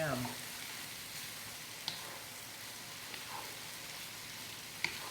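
Minced ginger and aromatics frying in a pan give a soft, continuous sizzle and crackle, close but quiet, with a few sharp ticks of a utensil against the pan.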